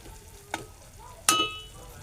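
Chopped onion sautés in a pan under a soft, low sizzle, with two sharp stirring scrapes, the second louder with a metallic clink.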